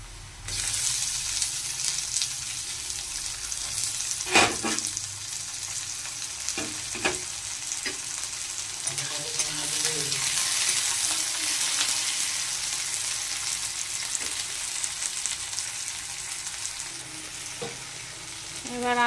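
Chopped tomatoes go into a pan of browned onion pieces and bay leaf for a rajma vegetable curry, sizzling steadily and loudly for the whole stretch, with occasional clinks and scrapes of a stirring spoon and no talking.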